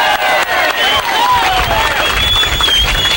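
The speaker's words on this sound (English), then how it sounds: "So how about a round of applause for Bailey?" Outdoor crowd at a 1986 motocross national at Axton applauding and cheering, a broad steady wash of clapping with whistles and shouts rising above it, fairly loud and continuous throughout.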